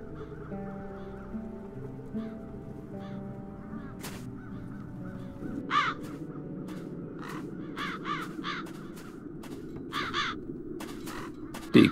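Crows caw repeatedly in the video game Das Schwarze Auge: Satinavs Ketten, harsh calls scattered over soft background music, growing more frequent and clustered toward the end.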